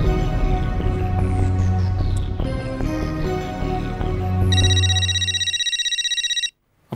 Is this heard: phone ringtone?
yes